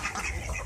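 Backyard ducks let out a brief burst of nasal quacking, close and moderately loud, lasting under a second.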